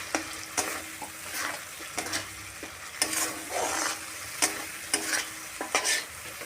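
Chicken being stirred and mixed with turmeric powder in a sizzling frying pan, a spoon scraping and knocking against the pan in repeated strokes over a continuous close, loud crackle of frying.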